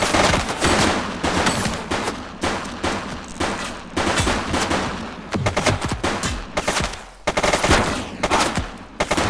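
Police shootout gunfire in The Precinct video game: loud, repeated bursts of automatic fire and single shots roll on in uneven waves for several seconds, close and intense, with no speech.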